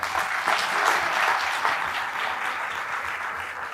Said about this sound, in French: Applaudissements pour Tania